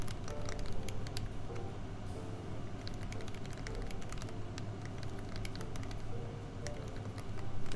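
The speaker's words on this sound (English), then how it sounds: "Typing on this is kind of hard." Typing on a polycarbonate TGR Alice mechanical keyboard, a dense, irregular patter of sharp key clicks and clacks over a steady low background hum, moderately quiet and continuous with no talking.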